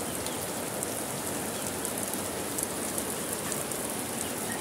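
Steady rain falls continuously on surfaces, a dense even hiss with scattered drop patter and no pauses, fairly close and moderately loud throughout.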